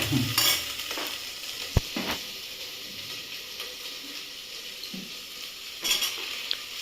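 Tomatoes frying with garlic in a pan for a chicken vegetable stew, a steady close sizzle and hiss with a few scraping stirs and one sharp utensil knock against the pan.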